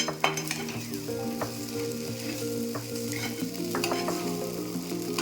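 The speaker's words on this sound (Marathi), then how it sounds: "पुन्हा एकदा खिचडी छान अशी हलवून घ्यायची आहे" Sabudana khichdi with lemon sizzles steadily in a hot pan while a spoon stirs it, giving continuous close frying crackle with intermittent scraping and clinking strokes.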